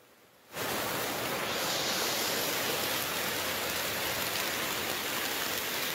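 Heavy rain and floodwater pour down like a waterfall during a downpour in Ambon, a dense, steady roar that begins abruptly after a brief quiet start and holds loud and constant to the end.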